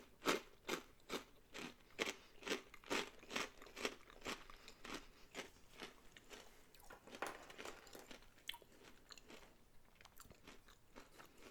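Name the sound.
crunching and chewing hot and spicy cheese whisps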